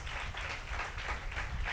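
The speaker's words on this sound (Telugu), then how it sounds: "ఒకసారి చప్పట్లు కొట్టి దేవుని స్తోత్రం" A church congregation at a Telugu Christian service claps together in praise of God, a fairly soft, continuous patter of many hands with a slight rhythmic pulse.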